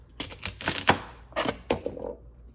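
A knife chops through celery stalks on a cutting board in a handful of sharp, close, crunchy cuts spread over a couple of seconds.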